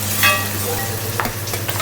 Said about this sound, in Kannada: tomato ಹಾಕ್ತಿದ್ದಾಳೆ guys